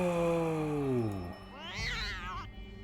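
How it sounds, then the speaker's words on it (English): A ghost cat in the Hero U video game gives a long, drawn-out meow that glides downward, then a second wavering, higher yowl. Both are close and clear over a low background hum. "Ghost cat Chianti."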